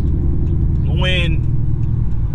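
Corvette engine heard from nearby on the street, a brief rising rev that sweeps up over a steady low rumble of idling cars and traffic, with no talking.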